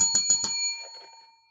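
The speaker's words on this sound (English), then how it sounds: "Ring that bell." A bell rings three times in quick, bright succession, then its metallic tone lingers and fades away. It is close and clear, with no talk.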